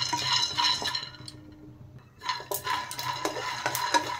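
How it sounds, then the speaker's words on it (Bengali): Peanuts dry-roasting in a hot wok, with a steady rattle and scrape of nuts being stirred against the metal and a brief lull partway through, close and moderately loud, no voices. "শুকনো খোলায় ভেজে নিচ্ছি"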